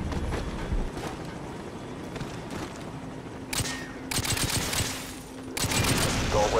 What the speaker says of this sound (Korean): 저 어딘가서 폭발이 일어난 것 같은데 애들은 못 들었을 거야